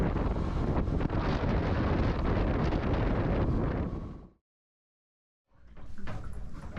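Strong gusty wind buffets the microphone aboard a sailboat, a loud, continuous roar that suddenly cuts out, then returns.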